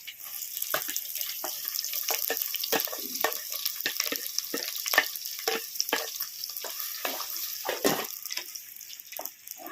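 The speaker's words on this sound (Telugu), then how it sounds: "సన్నగా కట్ చేసి పెట్టుకున్న ఉల్లిపాయ ముక్కలు అయితే వేస్తున్నాను" Thinly sliced onion pieces sizzle in a clay pot for village-style fish curry, a steady close frying hiss broken by frequent crackles and pops, with no talk.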